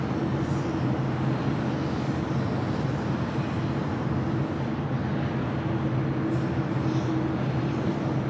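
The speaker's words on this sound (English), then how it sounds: "The A380 now making that turn in front of Clutters Park, Imperial Hill." Airbus A380 taxiing and turning after landing at LAX, a steady broad engine rumble with a low hum, sustained and fairly distant, no voices.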